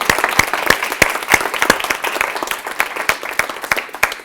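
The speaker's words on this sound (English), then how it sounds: "let's give a round of applause to all the presenters today" An audience applauds presenters at the close of a 3 Minute Thesis competition, with sustained dense clapping and a few sharper, louder claps standing out near the start, with no voices over it.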